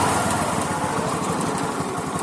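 A Honda Activa scooter with a pick-up problem idles close by, a steady low rhythmic engine putter with a buzzy, noisy top layer and no one talking.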